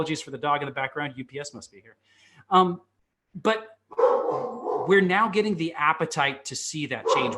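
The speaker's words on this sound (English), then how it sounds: "Apologies for the dog in the background." Dog barking somewhere in the background, a few short yips and barks in the gaps of someone speaking close to the microphone.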